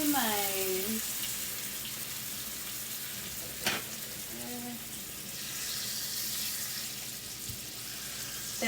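Pork sausage patties seasoned with salt and pepper fry in a lidded pan, giving a steady, dense sizzle throughout, with a brief clink near the middle and faint tonal squeaks early on.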